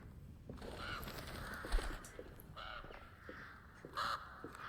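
Crows cawing around a gloomy manor in Alone in the Dark, several hoarse caws scattered through a dim, rustling ambient background, fairly faint and distant.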